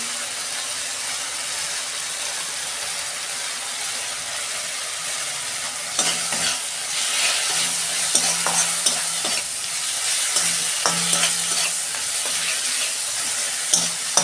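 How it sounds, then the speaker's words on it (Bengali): Ground cumin and Kashmiri chilli powder fry steadily in a pan for a Bengali egg curry, a constant close hiss with scraping stirs growing more frequent in the second half; no voices. "মশলা কষানো হয়ে গেছে"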